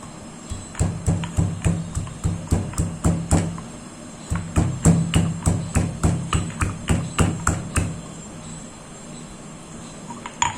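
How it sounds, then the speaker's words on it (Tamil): A wooden pestle pounds ingredients in a mortar in steady, rhythmic thumps, about two per second, close and loud, with a short pause partway through before the pounding resumes. "இதையும் நல்லா ஒரு உலக்கையில் போட்டு நல்லா தட்டி விட்டுக்கோங்க"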